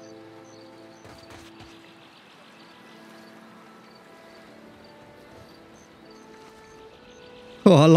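A character wades through water in the video game Pillars of Eternity 2, making soft, continuous sloshing under steady music, before a loud, abrupt burst of sound at the very end.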